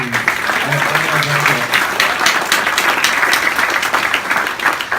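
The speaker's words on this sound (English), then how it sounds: "let's get another round of applause for all the teams." A crowd applauds the teams at the GovHack 2017 hackathon in Melbourne, dense sustained clapping at a steady loud level for several seconds, with a brief voice audible at the start.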